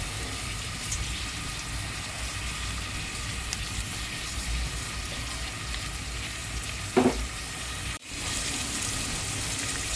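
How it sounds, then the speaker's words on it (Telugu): Onions frying in a pan with a little salt, a steady even sizzle throughout, with one brief clink near the end and a momentary drop before the sizzle resumes. "కాస్త ఉప్పు వేసుకొని ఆనియన్స్ వేయించుకోవాలి."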